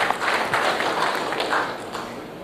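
Steady applause fills a conference hall at the Air Cargo India 2016 event, a dense wash of many hands clapping from the audience throughout, fairly loud and without any voice over it.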